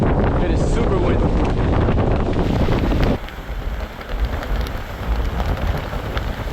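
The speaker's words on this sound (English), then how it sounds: "It is super windy." Strong, hurricane-like wind buffets a boat out on the water, roaring loudly into the microphone for about three seconds before easing to a lighter, gusty rush.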